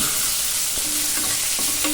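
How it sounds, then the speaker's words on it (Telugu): Curry leaves tempering in hot oil, a loud, dense, continuous sizzle close by, with a few sharper pops cutting through. "సో పోపు వేగుతుందండి కరివేపాకు కరివేపాకు కొంచెం ఎక్కువ వేసుకుని కూడా మంచిదే"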